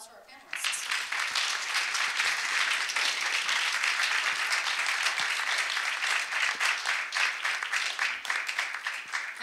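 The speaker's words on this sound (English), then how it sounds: "let's have a round of applause for our panelists" An audience applauds panelists at a discussion event, with dense, sustained clapping that starts abruptly and fills the room steadily for several seconds before thinning slightly at the end.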